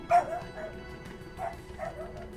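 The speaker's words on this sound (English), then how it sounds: "somebody has now set the dog off" A dog barks and yips in several short bursts, the loudest near the start and the rest fainter, heard alone over a low steady hum during a Persona 5 Royal playthrough.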